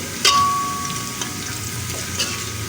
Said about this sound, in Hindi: बस हमें इसे थोड़ा सा और भूनना है, जैसे 12 सेकंड के लिए।